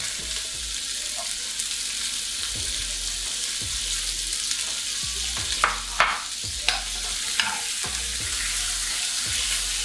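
Vegetables tossed in a pan with butter and seasoned with salt and pepper give off a loud, steady sizzle and frying hiss, broken by a few sharp scraping and clinking stirs near the middle.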